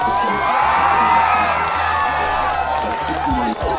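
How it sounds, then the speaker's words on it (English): A large crowd of supporters erupts in cheers and whoops on hearing a result, a dense, steady roar of many voices, loud and close, lasting throughout. "So what you're hearing is a lot of people just cheering and going, yeah!"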